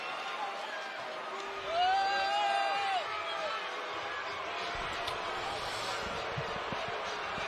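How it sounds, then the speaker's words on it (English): A boxing arena crowd after Vasily Lomachenko's fight with Devin Haney, a broad roar and scattered cheering that swells briefly early on, with a voice speaking over the noise. "Vasily Lomachenko takes the crowd's applause tonight"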